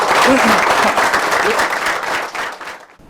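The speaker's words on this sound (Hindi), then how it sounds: "तालियां कैसे होनी चाहिए, ऑनलाइन में भी होनी चाहिए ना तालियां" Loud, dense applause from a group joining an online meditation session, with a voice faintly underneath, holding strong before tapering off and fading out near the end.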